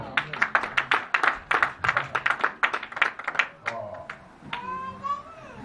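Worshippers in a church congregation clap their hands in a quick, uneven burst of applause for the Lord, close and fairly loud, which tapers off after about four seconds into quieter room sound with a voice.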